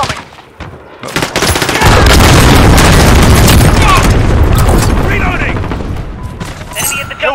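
Gunfire and shotgun blasts in the video game Call of Duty Modern Warfare, a loud, dense run of overlapping shots and booms that swells mid-clip and then tapers into scattered bursts.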